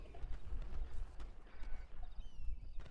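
Rhythmic horse hoofbeats from the video game Red Dead Redemption 2 clop steadily at a trot, with a brief chime-like tone near the end and no speech.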